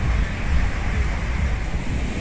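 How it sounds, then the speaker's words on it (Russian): Steady, unbroken roar of big sea waves breaking on a beach in Vietnam, mixed with wind rush across the microphone and heard continuously with no voices. "просто здесь волны волнуются"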